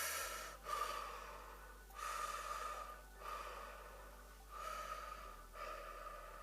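Slow, deep breaths during a guided meditation, five long airy inhale-exhale cycles close to the microphone over a steady low hum, with no talking.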